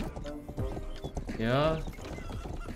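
In the video game Rustler, a horse gallops with quick, close clip-clopping hooves and a brief whinny in the middle, while someone speaks over it.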